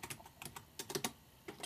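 Typing on a Mac computer keyboard while entering a search, a quick run of soft, close key clicks in an irregular rhythm, faint and without voices.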